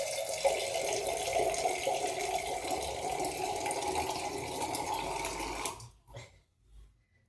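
Water pours steadily into a pot of rice and dal for cooking, a continuous splashing stream that suddenly stops and then trickles briefly.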